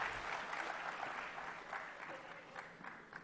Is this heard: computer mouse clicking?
no